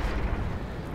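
A tank cannon shot in World of Tanks during a Tiger engagement, a loud, dense low boom that fills the whole second with heavy rumble and no voices.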